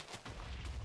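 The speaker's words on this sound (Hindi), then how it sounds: "तुम नीचे पटाखे बजा रहे हो यार" Firecrackers bursting inside Minecraft, a rapid crackling series of sharp pops running through the short moment, fairly close and loud.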